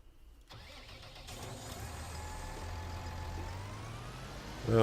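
Tractor engine in the farming video game Farming Simulator 19 starting up and settling into a steady mid-pitched hum, with a rising tonal whine layered over it and a louder burst at the very end.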